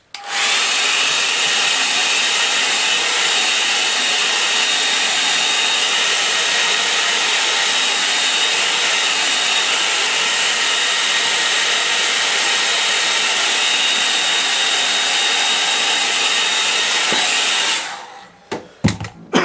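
A hair dryer drying ink on a line and wash painting runs as a loud, steady, close whoosh for about seventeen seconds, then switches off, leaving a few faint knocks.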